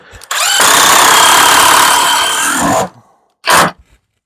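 A small handheld power drill spins up loud and close for a couple of seconds, cuts off, then gives one brief second burst.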